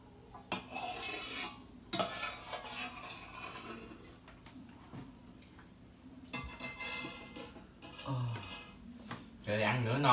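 A spoon scrapes and clinks against a pot while someone eats scallion rice porridge, giving scattered taps and stirring sounds with quieter stretches between them.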